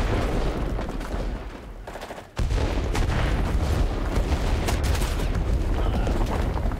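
Heavy artillery and mortar fire in the World War II shooter Enlisted, dense rumbling booms and gunfire filling the scene, with a brief dip before the barrage resumes loudly.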